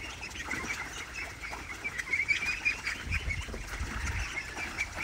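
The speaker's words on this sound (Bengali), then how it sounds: "হাঁসগুলা কি সুন্দর দেখেন, পানিতে লাভার পরপরই সব আনন্দে আছে, সব খেলাধুলা শুরু করে দিছে" Pekin ducks on a farm pond, quacking and calling in a lively, continuous chorus with splashing water beneath, close and fairly loud throughout, no talking.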